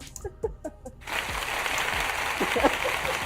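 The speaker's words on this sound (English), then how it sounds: "there's your applause" A brief stretch of talk gives way to a sustained wash of clapping from a crowd that keeps going to the end, with a voice faintly over it.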